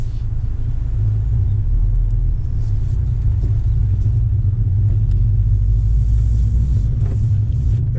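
A 2019 Honda Civic Type R engine in R mode with traction control off gives a deep, steady, close rumble that holds unbroken throughout.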